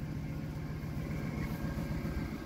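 A Jaguar X100 XK with a V8 engine idles, a quiet, steady low rumble that holds evenly throughout, with no voices over it.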